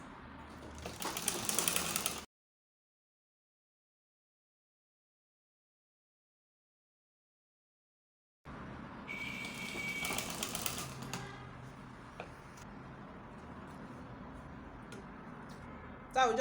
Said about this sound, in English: So you keep sewing like this.